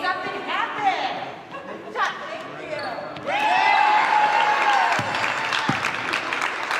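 A cheering squad on the sidelines of a granny basketball game in Mulvane, Kansas claps and cheers in a gym, with ball bounces and chatter early and then a sustained burst of applause and shouts.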